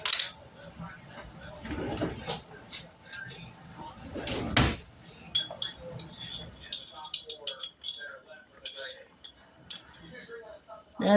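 Metal measuring spoon clinking against a container while scooping chili powder for a chili mac dish: a scattering of sharp, close clinks and rattles in an uneven rhythm, with a person talking at times.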